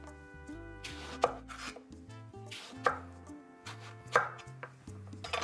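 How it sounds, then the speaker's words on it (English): A knife slices through a firm, half-peeled eggplant on a cutting board, giving several distinct chopping knocks about a second apart with softer cuts between, close and clear with no talking. "I just sort of peel it halfway and then make the nice slices."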